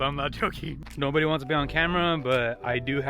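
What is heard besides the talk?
No everyday noises stand out.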